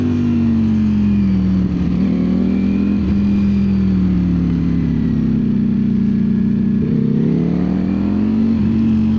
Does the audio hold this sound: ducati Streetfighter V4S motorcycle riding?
yes